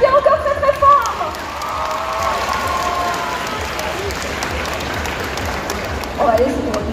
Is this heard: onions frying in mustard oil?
no